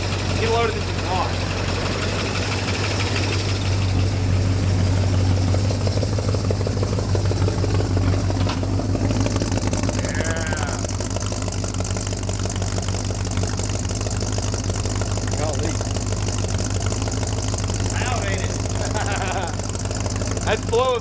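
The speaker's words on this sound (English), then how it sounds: "That's flow effects mufflers right there." Barn-find 1958 Plymouth engine idling with Flowmaster mufflers after a year without running, a steady low rumbling exhaust that continues throughout while people talk nearby.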